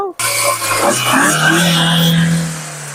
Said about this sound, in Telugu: ఇంజన్ ఒక సౌండ్ మీరు ఇక్కడ చెక్ చేశారు కదా